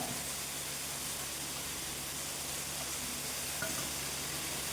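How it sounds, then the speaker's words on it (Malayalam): Tomato with coriander, chilli, turmeric and garam masala powders frying for chicken curry sizzles in an even, hissing wash throughout, steady and close, with one faint scrape near the end and no speech. "തക്കാളി വഴറ്റിയതിന് ശേഷം നമുക്ക് കുറച്ച് മല്ലിപ്പൊടി, കുറച്ച് മുളക് പൊടി, ഇച്ചിരി മഞ്ഞൾപ്പൊടി, കുറച്ച് ഗരം മസാല"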